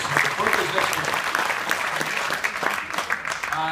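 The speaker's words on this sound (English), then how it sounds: "Come on, give her a round of applause." An audience applauds at an evening stage show, a steady wash of clapping with a voice talking over it.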